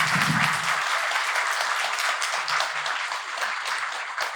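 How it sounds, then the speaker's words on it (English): An audience at a Game Days 2022 talk gives speaker Vladimír another round of applause, a full, sustained wash of clapping that holds steady and thins slightly toward the end, with no talking on top. "Can everyone give him another round of applause?"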